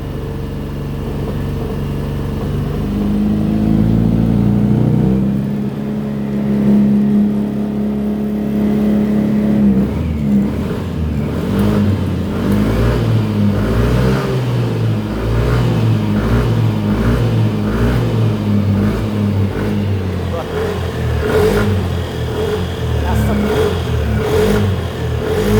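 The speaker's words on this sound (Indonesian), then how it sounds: "Coba digas dulu." A motorcycle engine idles loudly close by, then is throttled during a charging test, revving in repeated uneven bursts.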